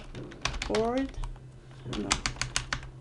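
Computer keyboard keys are pressed in quick clusters of sharp clicks, fairly close, while a voice speaks briefly in between.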